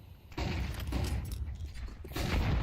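Grenade blast in the video game Counter-Strike, a heavy booming burst of noise that rolls on for over a second, followed by a second loud explosive rush, with faint game sounds underneath.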